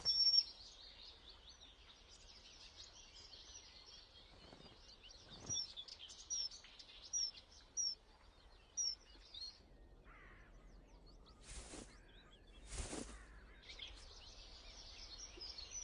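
A kingfisher near its riverbank nest tunnel gives a series of short, high, piercing calls, repeated in a loose run of several notes over a quiet outdoor background with a few sharper noises later.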